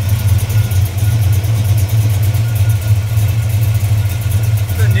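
A 1963 Chevrolet C10 Fleetside with a new-generation engine and MSD wires idles close by after firing up, a loud, steady low rumble with a pulsing throb, while someone talks over it.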